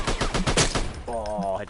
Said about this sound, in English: And obviously you can hear the firing quite well.